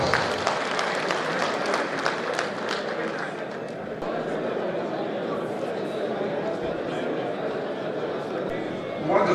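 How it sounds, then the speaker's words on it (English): A crowd at a political consultative group meeting in Abuja applauds steadily throughout, dense clapping mixed with chatter and a little laughter, fairly close and continuous. "Round of applause."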